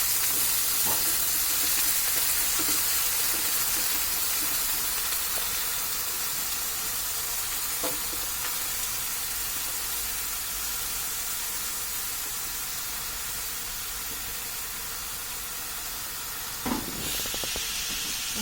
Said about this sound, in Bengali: তেলটা প্রায় গরম হয়ে আসছে, এখন যে আলুগুলো আছে সেটা দিয়ে দেব এর মধ্যে